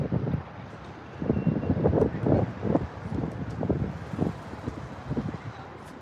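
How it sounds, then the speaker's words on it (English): Wind gusts outdoors buffet the microphone in a continuous low rumble that swells and fades in uneven bursts across several seconds. "it's pretty windy out here"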